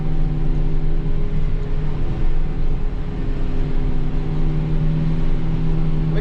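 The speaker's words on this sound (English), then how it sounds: "You can hear that radiator fan kicking in from the engine getting hot." A car engine's radiator fan runs as the engine heats up, a steady loud whirring drone with low tonal hum that holds constant throughout, no voices.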